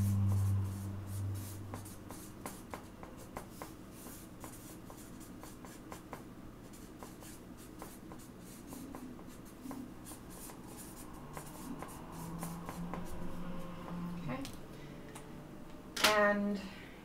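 Pen strokes and scratches on paper come in short irregular bursts, quiet and close, with a louder scribble near the end.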